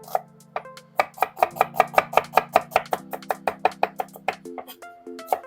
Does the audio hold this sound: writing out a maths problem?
no